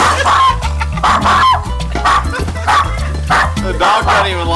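A dog barks repeatedly in loud, close, rhythmic bursts at a birthday party where a clown costume is involved, with faint laughter mixed in.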